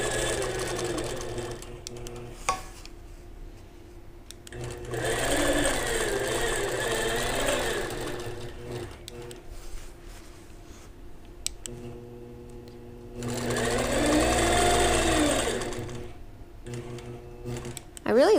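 Sewing machine free-motion quilting a stitched mini quilt: two loud bursts of rapid, steady motor whirring and needle clatter, with quieter stretches between them and a person talking throughout.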